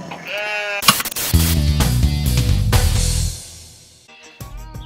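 Sheep bleat loudly in a cartoon comedy sketch, with several wavering, drawn-out cries that overlap in a dense burst before trailing off.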